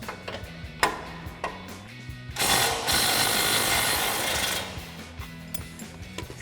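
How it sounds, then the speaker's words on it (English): A ratchet works the 19 mm lower shock mount bolt on a Toyota Tacoma front suspension, with quick clicking turns and metallic clinks, then a longer burst of grinding mechanical noise before more intermittent clicks. "we're gonna take our lower shock mount bolt out, the 19 millimeter head with the 19 millimeter nut."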